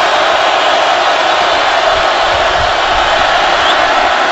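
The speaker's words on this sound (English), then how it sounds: "This crowd still in full throat." Stadium crowd at a Seattle Seahawks home football game against the Jacksonville Jaguars, a loud, steady roar of cheering that holds at full volume throughout with no breaks.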